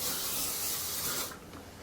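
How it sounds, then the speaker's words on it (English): Hairspray hisses in one steady, close spray burst onto hair for just over a second, then cuts off, leaving a faint rustle. "I hairspray it upside down"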